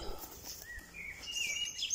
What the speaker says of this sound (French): écouter les oiseaux